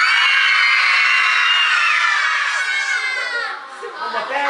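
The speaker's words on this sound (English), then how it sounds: "give me a 2-second scream" A live show audience screams together for about two seconds on cue, a loud, dense wall of high-pitched voices including children that fades and breaks up toward the end.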